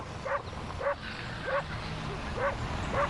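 A farm dog barks repeatedly at a steady rhythm, five or six short barks, moderately near, over a low background hum.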